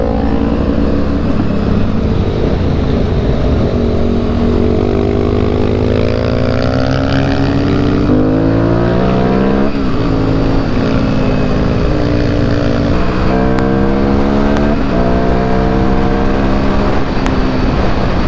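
A Yamaha Byson motorcycle ridden at speed, its engine roaring loud and close throughout, rising and falling in pitch through gear changes, with heavy wind rush.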